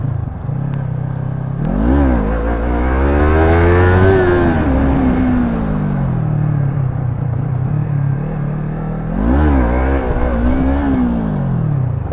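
A motorcycle engine revs hard twice during wheelie practice at Yenikapı, each throttle blip sweeping its pitch up and back down over a steady idling rumble, loud and close.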